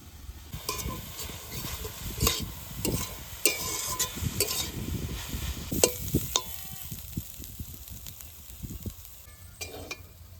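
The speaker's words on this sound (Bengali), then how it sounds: "খারকুল পাতার শাক ভাজা হয়ে গেছে" Kharkol leaf greens fry in a pan, a low crackling sizzle broken by repeated scraping stirs, fairly quiet and close, with no talking.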